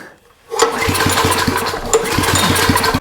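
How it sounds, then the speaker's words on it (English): A portable generator engine with the choke on starts up after a short quiet moment, catching abruptly and running in a loud, close, rough, steady chug for a few seconds before cutting off. "Let's see if she'll run on fuel. So we've got the off switch there if we need it. Let's go. Gonna put the choke back on."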